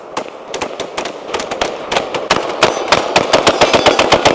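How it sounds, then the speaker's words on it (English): An AR-15 rifle fires a long, rapid string of loud, sharp shots at a fast, steady rhythm, close and without talk. "any AR-15 you shoot 200 rounds through in under 5 minutes"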